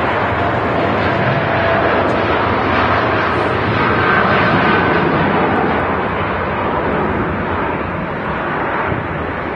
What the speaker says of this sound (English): Let's get this beautiful Dreamliner first.